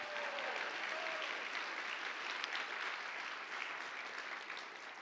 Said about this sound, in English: give the Lord a great hand clap.